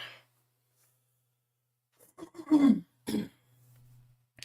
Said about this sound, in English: I might be clearing my throat a little bit